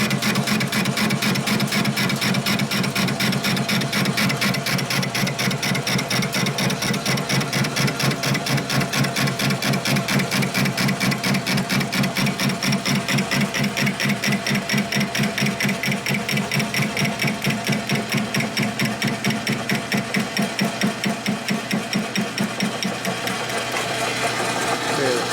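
Machine tool cutting metal from a custom Harley-Davidson twin cam motorcycle engine part, a loud steady rapid mechanical chatter running continuously throughout with no pauses.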